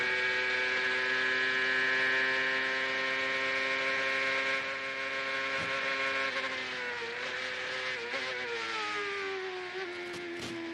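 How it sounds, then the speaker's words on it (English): Onboard a 2002 CART Champ Car, the engine screams at high revs with a steady harmonic whine that dips and jumps through a downshift, loud and continuous with no talk. "A lot of revs on that downshift."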